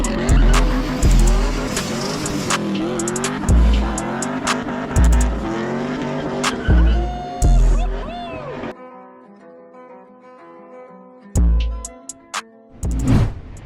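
A Lexus LS400 with rear suspension work slides, its tires squealing in repeated bursts over a loud, revving engine, then a quieter stretch with brief squeals near the end.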